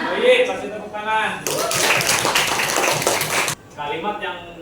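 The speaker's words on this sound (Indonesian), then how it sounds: "Baik, kasih tepuk tangan." A class of students clapping hands together in a classroom, a dense burst of applause lasting about two seconds between stretches of a teacher's speech.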